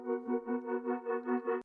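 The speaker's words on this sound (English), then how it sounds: "I added another pad on the second half of that verse to kind of fill in the space a little bit" A soft synth pad made with Ableton 10's Wavetable synth holds a chord that pulses in a steady rhythmic swell, solo and clean, ending with a brief click.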